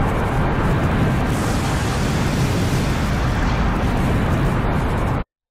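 A huge destructive blast roars as one continuous, dense rumble of debris and fire that holds at full loudness for about five seconds, then cuts off abruptly.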